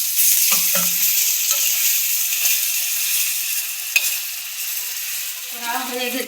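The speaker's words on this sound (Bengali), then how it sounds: "এখন আমি কুচিয়া মাছগুলো ভাজা করব।" Fish fry in hot oil in a village kitchen wok, giving a loud, steady, close sizzle with a few light stirring knocks and a brief spatter burst near the end.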